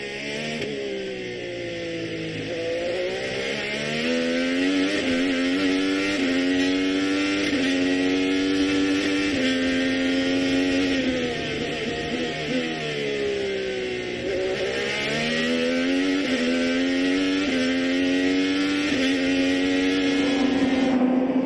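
An IndyCar race car engine drones loudly and steadily at the St. Petersburg street circuit, its pitch rising and falling as it shifts and eases through corners, with no voices.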